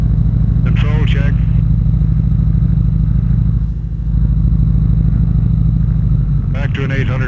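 A Cessna 195 aircraft's radial engine idles near 800 RPM with a steady, loud, low throbbing rumble, heard close up from the cockpit, while a voice speaks briefly over it at the start and end.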